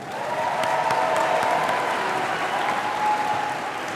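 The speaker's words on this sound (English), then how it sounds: "Can we get a round of applause for our translator," Graduation ceremony audience applauding a student translator, a dense, sustained round of clapping from a large crowd, steady and fairly loud throughout.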